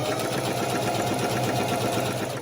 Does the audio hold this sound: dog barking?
no